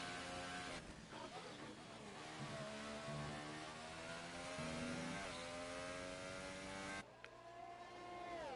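A Mercedes F4 race car engine screams in an onboard view from a video game, holding a steady high whine with gear changes and rising revs. It is loud and continuous, with a brief shift-like dip near the end.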